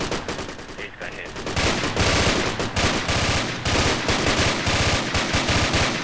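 Sustained automatic machine gun fire in the Project Reality infantry military shooter, rapid loud bursts running almost continuously with dense repeated shots throughout.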